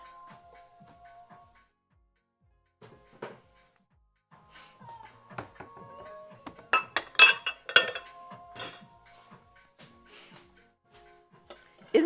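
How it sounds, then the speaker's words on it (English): Dishes being put away in a home kitchen, with scattered clinks of glass, plates and cutlery and a few knocks, sparse at first and then a busier cluster of sharp clatters, with no talk. "I am going to start putting away dishes."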